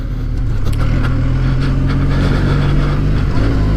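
A Benelli TRK502 motorcycle ridden slowly through a city, its engine a steady loud drone mixed with heavy wind rush, continuous with no talk.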